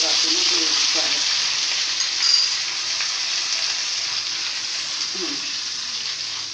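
Ginger garlic paste roasting in a chicken karahi, a continuous close sizzle with occasional stirring scrapes, loud at first and easing slightly, with a brief voice in the background.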